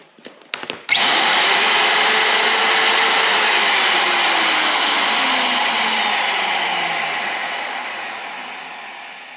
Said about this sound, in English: Turn it on and the router's on.